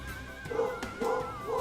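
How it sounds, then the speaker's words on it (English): A pet dog indoors gives drawn-out, whining yelps and a howl-like cry, a few short rising calls close by with no one talking over them. "I don't know if you guys hear that. That is my dog, Maddie."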